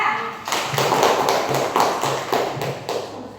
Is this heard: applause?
yes